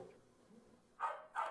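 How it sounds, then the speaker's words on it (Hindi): Two sharp dog barks ring out from outside, moderately distant, coming a fraction of a second apart after a stretch of quiet room tone. "एक कुत्ता भौंकता है दूसरा भी भौंकता है भाई"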